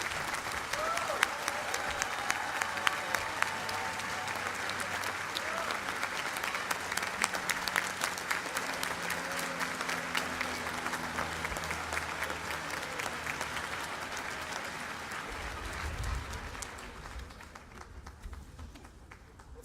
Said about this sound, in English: It's always good to cheer for the professors.